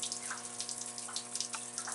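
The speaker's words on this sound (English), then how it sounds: "You can see the stream of water coming right in." A steady stream of water pours into a tight space beneath framing, making a continuous, even rush with a low steady hum underneath.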